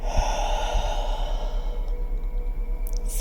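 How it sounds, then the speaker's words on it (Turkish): One deep breath is drawn in and released through the mouth as part of a guided air-element chakra breathing exercise. It is a soft, airy exhale over a faint steady low pulse in the background, with no talking. "Ağızdan kocaman nefes al"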